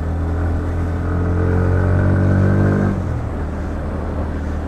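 A Bajaj Pulsar NS 160 motorcycle engine drones steadily while riding on a slightly wet road, swelling briefly as it revs, then settling back to a lower rumble.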